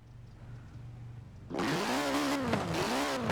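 Engine of a Ford Racing Puma in Forza Horizon 4, a low idle that abruptly jumps into a loud, high-revving rasp with rising and falling pitch sweeps, with no talk over it.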